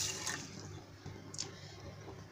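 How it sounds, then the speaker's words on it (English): Water pours and splashes into a cooking pan in a home kitchen while a weight loss drink with mint leaves and honey is made, a soft, steady trickle lasting a couple of seconds. "In this I am going to add 2 glasses of water."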